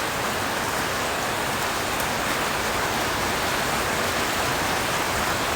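Heavy rain pours steadily on a street in Manila, a dense, constant hiss of drops on surfaces with no pauses, loud and close throughout.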